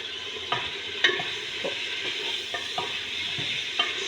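Lamb with tomato, corn and molokhia frying in a pan, a soft steady sizzle broken by several sharp scraping knocks of a utensil stirring, close and fairly quiet.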